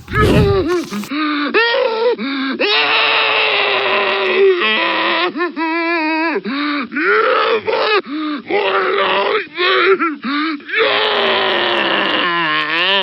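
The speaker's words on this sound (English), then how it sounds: "they're screaming something that sounds like "God help me," "Oh God help me," or something like that." Headcrab zombie from the video game Half-Life 2 screaming, a continuous loud, close, warbling, anguished groaning howl with pitch swoops and gasping breaks, processed and voice-like.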